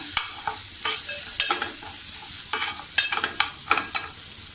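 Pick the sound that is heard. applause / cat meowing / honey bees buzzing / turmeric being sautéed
turmeric being sautéed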